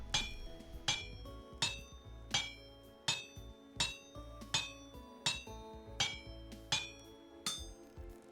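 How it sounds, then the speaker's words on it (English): Iron is hammered on an anvil in the video game Vintage Story, about a dozen evenly spaced metallic clanks ringing out one after another at a steady rhythm, each with a bright, short-decaying ring. "And then we hammer. Hammer, hammer, hammer."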